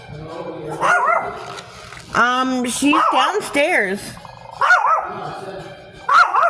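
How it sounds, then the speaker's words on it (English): Dog barking in short repeated bursts near the listener, loud and intermittent, with a person talking on the phone over and between the barks. "I can't hear over this dog barking"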